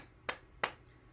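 Two soft, sharp claps of hands against the inside of the elbows during a bouncing exercise session, evenly spaced and quiet in an otherwise still room.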